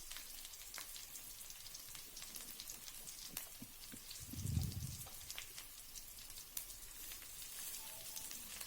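Garlic, dried red chillies and curry leaves frying in oil for tomato pepper rasam, giving a steady soft crackling sizzle throughout, with a brief louder bubbling burst near the middle.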